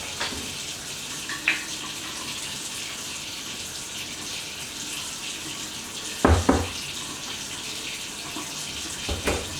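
Kitchen tap water runs steadily at a sink while it is warmed for a sourdough starter, a constant close hiss with a few brief clatters and knocks partway through.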